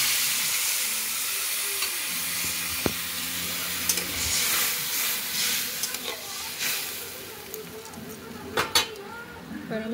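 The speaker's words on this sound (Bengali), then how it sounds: "তো এবার আমি পরিমাণ মতো ঝোলের জল দিয়ে দেবো" Curry broth water poured into a pan of frying hilsa fish curry with taro and eggplant, sending up a loud, hissing sizzle that bubbles and churns, with scattered clinks of a spoon against the pan.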